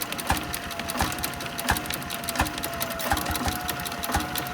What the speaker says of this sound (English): You'll hear the generator whine.